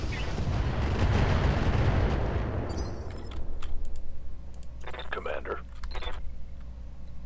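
Indirect artillery fire in the video game Roguetech BattleTech lands as a heavy, rumbling barrage that rolls for about three seconds and then fades, followed by mechanical clatter and faint effects as a voice talks.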